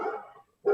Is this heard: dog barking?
yes